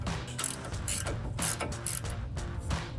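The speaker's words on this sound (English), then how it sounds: "Tighten it down with a 21 millimeter." Ratcheting clicks of a 21 mm wrench tightening a tie rod end nut on a 2009-2026 Ford F-150, a quick run of close metallic ticks repeating in short bursts, nearby and fairly quiet.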